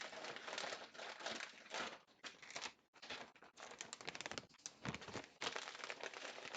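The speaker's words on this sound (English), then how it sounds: "I'm going to put this in a plastic bag." A plastic bag crinkles and rustles continuously as a cling-wrapped salmon container is wrapped in it, close and busy with brief pauses, no talking.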